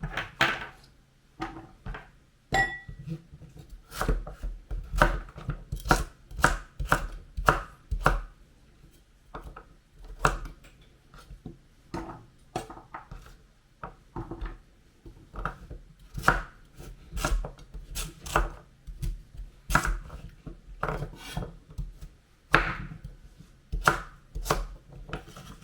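A knife chops sweet pumpkin into small pieces on a cutting board for pumpkin songpyeon, a steady run of close, sharp board-striking cuts with brief pauses between bursts.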